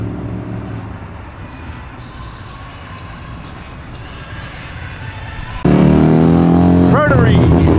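Outside a car show at Penrith Homemaker, a car's engine burbles low and steady as cars pull away, including a 1963 Holden and a Trans Am. Partway through, it jumps to a much louder close rumble, with voices heard.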